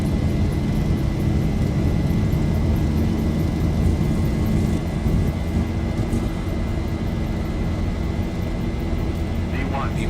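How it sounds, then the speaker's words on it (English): Boeing 737-800 jet engines at takeoff power in the X-Plane 11 flight simulator make a continuous loud roar and rumble with a steady tone. "Takeoff power set. Airspeed's rolling."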